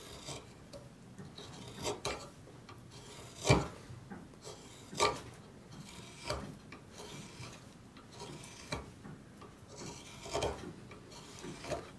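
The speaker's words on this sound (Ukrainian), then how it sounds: "Я так беру, бачите, прокручую стамескою, не просто суну, а трошки прокручую." Chisel pushed and twisted through walnut, cutting across the wood fibres in repeated rasping, scraping strokes, close and fairly quiet, with no speech.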